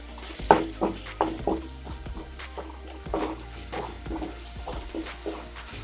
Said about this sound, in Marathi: शेंगदाण्याचं कूट, मिक्स करूया।